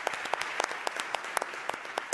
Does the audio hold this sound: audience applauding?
yes